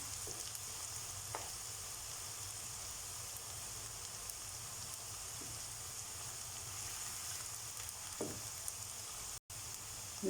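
Minced meat frying in a pan with garlic and ginger, a steady soft sizzle and hiss running throughout with a few faint stirring clicks, close by and with no voices.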